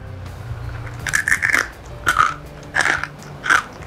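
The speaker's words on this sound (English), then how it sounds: "Seriously can't stop eating these chickpeas. Oh my god, can you hear the crunch?" Roasted spiced chickpeas being crunched between the teeth, several loud, close bursts of crisp chewing at irregular intervals, with no talking.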